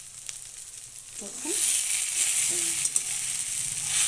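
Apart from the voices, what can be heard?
taro leaves with chickpeas frying in a wok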